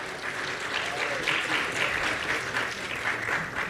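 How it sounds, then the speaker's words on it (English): Sustained audience applause at the 60 Million Congress in Miami, a dense, even wash of clapping from a large crowd filling the hall, with no break across its few seconds. "Round of applause."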